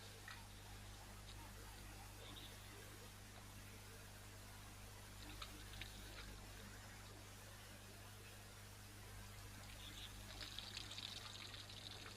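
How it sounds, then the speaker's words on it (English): A large bull elephant at a waterhole sucks up water and squirts it into its mouth, producing faint, continuous trickling and gushing sounds at a distance over a steady low hum. "And just listen carefully to him suck up the water"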